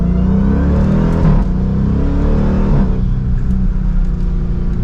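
A 2023 Dodge Durango SRT Hellcat accelerates hard in track mode from second gear, its loud supercharged engine roaring and climbing in pitch with brief breaks for upshifts, heard close from inside the vehicle without talking.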